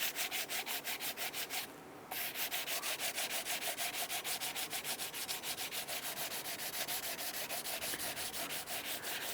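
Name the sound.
sanding the exhaust manifold gasket surface with sandpaper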